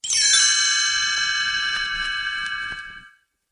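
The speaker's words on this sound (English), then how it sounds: "You will know it is time to turn the page when you hear the chimes ring like this" A bright chime rings once and its shimmering tones slowly fade away over a few seconds, heard alone.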